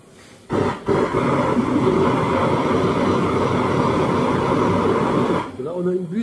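Oxyacetylene brazing torch with a large nozzle, a loud, steady, bright roaring hiss of flame that starts abruptly after a pop and holds evenly before cutting off, with a voice faintly present.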